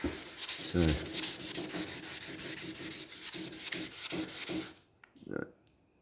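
Primer on a Honda ST 1100 motorcycle is rubbed down by hand in quick, close, rhythmic back-and-forth scrubbing strokes that stop near the end, followed by a brief knock.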